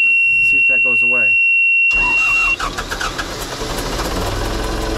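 A 1992 Pettibone 636 telehandler, suspected of low oil pressure, has a steady warning beep sounding before its engine cranks briefly, catches and settles into a loud, rough diesel idle that continues to the end.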